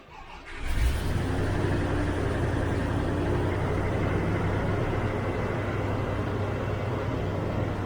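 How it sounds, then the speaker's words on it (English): A 1993 car engine cold-starts with a brief cranking burst, then settles into a steady, fairly fast idle that drones on evenly and close by with no talk. "That's what I mean about the fast idle. It's a bit too fast on a cold start."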